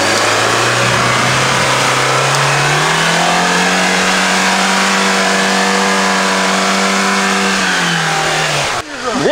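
An off-road car's engine revs hard and holds high as it struggles for grip on grass, its pitch climbing and then sustained loudly before a brief drop near the end, with no talking.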